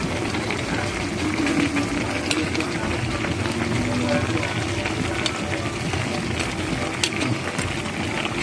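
Adobo sa gata simmering in a pot, a steady bubbling hiss that holds throughout with small pops.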